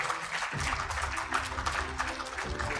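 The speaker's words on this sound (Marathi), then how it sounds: "टाळ्यांचा आवाज अचानक कमी का झालाय?" Audience applause at an award ceremony, steady dense clapping from a crowd, moderately loud and continuous throughout, with a low droning hum running beneath part of it.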